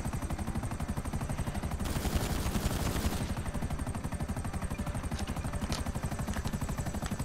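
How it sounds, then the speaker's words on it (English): Rapid gunfire from a helicopter in a Soviet-themed video game, continuous rhythmic bursts over the steady thudding of rotor blades, growing denser and louder for about a second in the middle. "I'm just gonna shoot at him"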